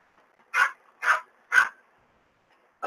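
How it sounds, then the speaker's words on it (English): A female dog barks three times in an even rhythm, fairly close and clear, then starts a fourth bark after a pause, against a quiet indoor background. "She ain't going to shut up unless they take her first."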